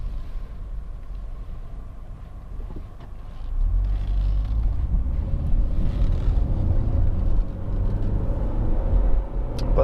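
A Honda Accord 2.4 i-VTEC EX four-door saloon driving and swinging around, with steady engine and road rumble from inside the cabin that deepens and grows louder partway through, with no voices.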